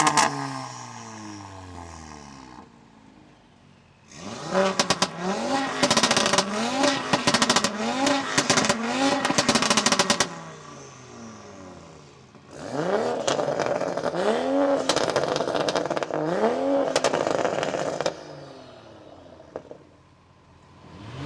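Cars rev hard during sound checks before quarter mile roll races, loud engines rising and falling in repeated throttle blips in two separate bursts with quieter idle between, close to the listener.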